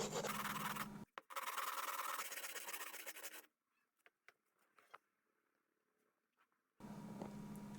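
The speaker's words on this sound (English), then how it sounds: "I used sandpaper to get rid of the sharp edges." Sandpaper rubbing off the sharp edges of a metal outlet strip for a workbench, giving loud, steady rasping strokes for about three seconds, a few faint scrapes and taps, then the rough scratching starting up again.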